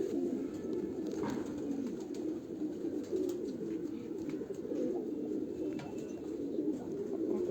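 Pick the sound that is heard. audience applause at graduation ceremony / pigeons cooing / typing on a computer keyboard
pigeons cooing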